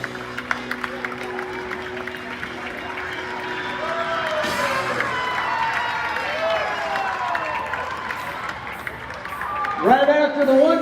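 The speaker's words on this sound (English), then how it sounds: "Let's give a round of applause" Crowd applause and cheering at a baseball opening ceremony, continuous clapping with whoops and a busy outdoor crowd, while voices talk and call out over it.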